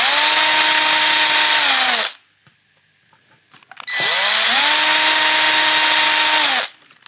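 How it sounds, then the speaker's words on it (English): A power drill bores two holes for wires during a 1972 Hacker RP73 radio rebuild: two loud whining bursts of about two seconds each, the motor pitch dipping under load, separated by a quiet pause with small handling clicks. "And I will drill 2 holes there for the wires."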